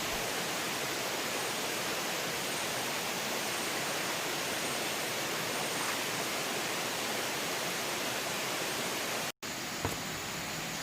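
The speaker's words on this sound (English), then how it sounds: "This stream came from further up the mountain, and as you can see, the water is pristine, crystal clear and clean, and cold too." Clear, cold mountain stream flowing near Ulu Perdik Waterfall, a steady broadband rush of water close by, constant and unbroken with no voices, cutting out briefly near the end.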